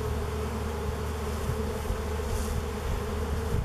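Dense, steady buzzing of honeybees swarming around a beehive, opened after more than 30 years unopened, a continuous close hum with no talk.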